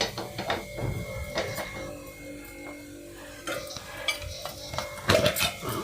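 A metal pan set onto a stove before cooking a brinjal curry, with light clanks and scrapes of cookware against the burner, faint and near, a few separate knocks in a quiet kitchen.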